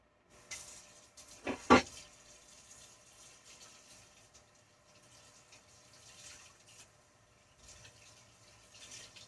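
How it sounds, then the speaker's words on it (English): Water runs briefly from a tap while a rag is rinsed at a sink, a short louder gush early on, then a faint trickle and quiet handling. "I'm gonna go wash my rag, rinse out my rag"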